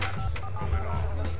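Telephone keypad tones beep in quick succession in The Sims Bustin' Out, a short run of dialing notes over low background music.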